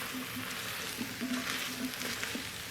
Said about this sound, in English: Right now it's just sauteing it in there a little bit